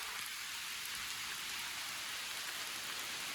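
Heavy rain pours down in a steady, dense hiss during a summer storm that brought about four inches in eighteen hours, continuous and loud with no breaks.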